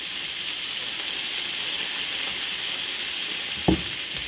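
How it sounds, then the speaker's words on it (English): Salt-and-pepper seasoned beef sizzles and fries in a pan for a beef stroganoff, a steady close hiss of frying with one brief soft knock near the end. "I'm going to fry these up for about 4 minutes."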